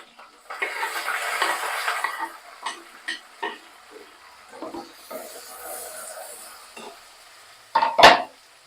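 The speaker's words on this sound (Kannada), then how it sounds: "ಸಾಸಿವೆ ಚೆನ್ನಾಗಿ ಚಿಟಾಪಟ ಅಂತ ಅನ್ಲಿ" Mustard seeds crackling and popping in hot oil in a home kitchen pan, a dense sizzle early on giving way to scattered pops, with a louder metallic clatter near the end.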